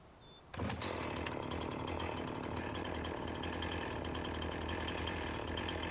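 A chainsaw in Farming Simulator 19 starts abruptly after a brief quiet moment, then runs at a constant, loud, buzzing pitch as it cuts through a tree, with no talk over it.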